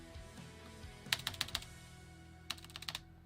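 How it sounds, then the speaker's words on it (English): Keys clack on a computer keyboard during a new gaming PC build, two quick bursts of several crisp strokes separated by a pause, over a quiet background hum. "the keyboard works"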